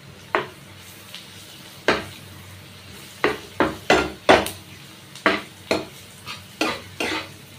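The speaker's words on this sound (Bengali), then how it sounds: "আর 1 চামচে কম একটু লঙ্কা গুঁড়ো দিয়ে আমি এটাকে ভালোভাবে নাড়াবো" A spoon stirs cumin, coriander and chili powder into a chara pona fish curry in a pan, giving about a dozen sharp, close scraping strokes in an uneven rhythm with faint sizzling between them and no talking.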